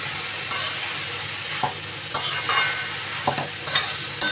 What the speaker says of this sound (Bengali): দিয়ে ভালো করে মিশিয়ে নেব আলু আর যে ফোড়ন দিয়েছিলাম সেগুলোর সাথে